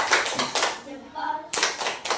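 Group clap chant (tepuk salut) in a classroom presentation: rhythmic bursts of hand claps from a small group, pausing in the middle while a voice speaks, then resuming with several quick claps.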